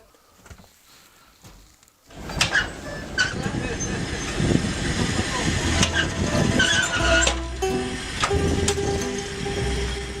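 Inside a moving train in Siberia, a loud, continuous rumble of wheels and carriage rattle starts after a quiet opening, with clanks and squeals over the steady roar.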